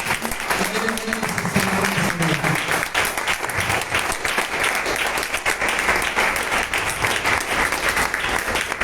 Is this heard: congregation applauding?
yes